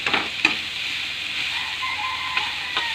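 Banana blossom is sautéed in a pan, with a steady nearby sizzle broken by a few sharp clicks and scrapes from stirring, and no talking.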